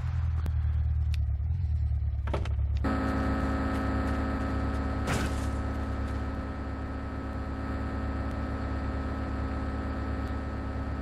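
Car driven in the video game GTA III, a steady droning engine hum with a few clicks and a low rumble at the start, then a constant, even tone.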